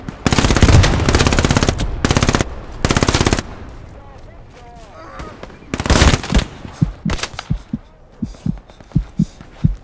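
Gunfire in the World War II game Hell Let Loose on the Kursk map: loud bursts of close automatic fire, then sharp scattered shots and distant thuds.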